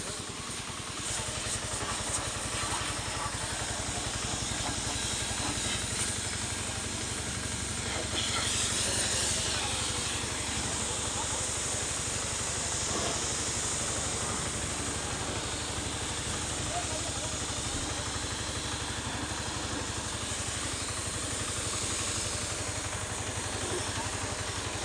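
A pressure washer sprays a muddy truck during a door-to-door truck wash, giving a loud, steady hiss of high-pressure water with an engine hum beneath it. The spray runs nearly unbroken throughout.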